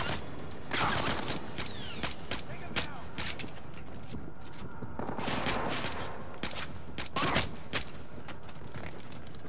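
Rapid bursts of automatic gunfire and single shots in the video game Splinter Cell Blacklist, loud and dense across the whole stretch, with a voice talking intermittently underneath.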